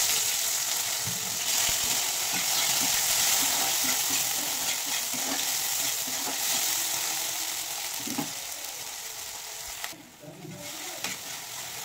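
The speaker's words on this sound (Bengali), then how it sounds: "টমেটো দেখো বন্ধুরা ভাজা এবং কষানো গলানো হয়ে গেছে।" Chopped tomatoes fry in a pan with a dried red chilli and bay leaf for a fish curry, giving a steady close sizzle with repeated stirring scrapes and a brief lull near the end.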